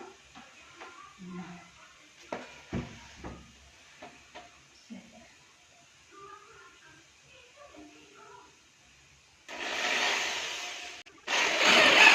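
A power drill bores a second hole at home, whirring loudly in two bursts near the end after quieter clicks, taps and handling noises, with someone speaking briefly.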